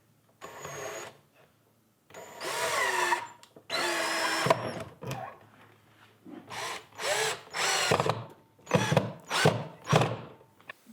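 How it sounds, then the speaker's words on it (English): A power drill drives screws into the pocket holes of a wooden shelf, whirring in about nine bursts, the first few longer and later ones shorter and choppier, separated by quiet gaps. "use a drill to get the pocket holes inserted"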